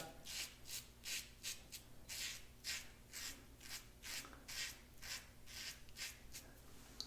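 Rasping scrape of a Henson Ti22 titanium safety razor on skin during a light skim pass, about a dozen short, rhythmic strokes heard up close and fairly quiet, with no talking.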